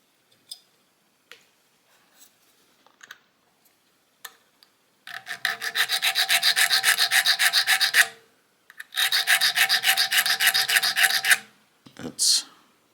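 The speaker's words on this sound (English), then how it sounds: "now I have to sand the bottom side of the bead" Sanding the underside of a binding bead during restoration of a 1965 Gibson Country Western guitar: after a few light taps, two long bursts of rapid, rhythmic rasping strokes, close and fairly loud, then a brief scrape.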